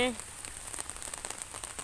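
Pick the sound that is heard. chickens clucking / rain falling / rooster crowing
rain falling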